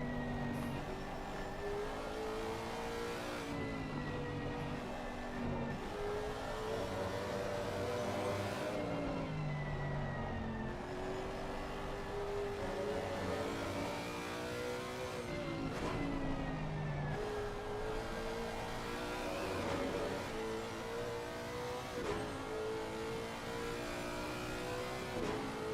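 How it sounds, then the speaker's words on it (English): A Lexus race car in Assetto Corsa Competizione, its engine note climbing and dropping through gear changes in a steady, loud, continuous drone across a long stint of driving, with no talk. "Does sound lovely, this Lexus"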